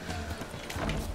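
Hooves clip-clop from a horse in The Witcher 3 video game, a short run of steady hoof beats under dense background game sound.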